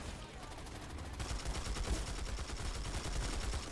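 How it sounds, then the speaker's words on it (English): Rapid burst-fire gunshots from a weapon in the video game Planetside 2 on PS4, a dense, continuous rattle of shots at fairly low volume throughout. "And I'm burst firing and everything."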